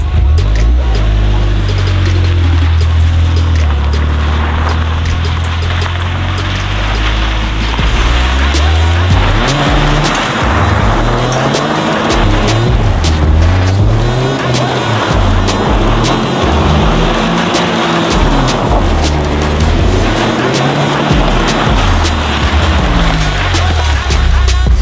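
Toyota GR Corolla driven hard off-road in sport mode with traction control off, its engine loud and steady throughout, rising and falling in revving surges with rough tire and ground noise, no talk over it.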